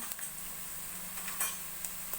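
Fenugreek leaves sizzling softly in hot oil tempering for a methi chicken biryani, with faint, steady crackle and a few light stirring clicks against the pan.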